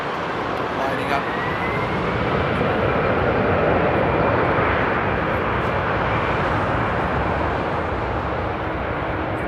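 A Condor airliner lining up on the runway at a frosty Frankfurt Airport, a broad steady engine roar and rushing hum that fills the whole stretch, with voices talking over it.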